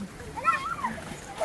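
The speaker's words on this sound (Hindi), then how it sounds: "यहाँ पर गांव के बच्चे नहा रहे हैं क्योंकि आज बहुत अच्छी धूप लगी है" Village children splash and pour water over each other while bathing outdoors in the sun, soft sloshing and splatter mixed with children's voices and nearby chatter.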